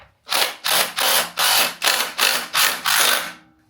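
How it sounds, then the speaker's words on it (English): Ratchet tightening a bolt on an abandoned BMW E30: eight loud, close, evenly spaced bursts of rapid clicking, each swelling and cutting off in a steady rhythm. "making sure that your bolt, which in the middle, is holding perfectly in the center, and then just tight it up"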